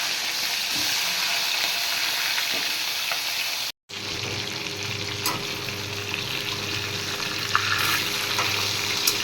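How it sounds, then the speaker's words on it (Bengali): Fish heads frying in hot oil, a steady close sizzle with spitting and splattering throughout, cut by a brief dropout of silence partway through; no voices. "তেল গরম হয়ে গেছে এবার মাছের মাথাগুলো দিয়ে দিচ্ছি একটা তেল ছিটছে"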